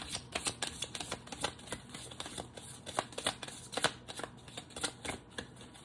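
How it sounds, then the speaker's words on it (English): A large, thick deck of tarot cards is shuffled by hand in quick repeated riffles and slaps, soft and close, with a busy rhythmic patter throughout. "It's a very challenging deck to shuffle."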